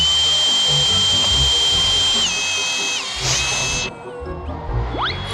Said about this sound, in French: On est en train d'essayer le meilleur outil de la vidéo, la scie cloche.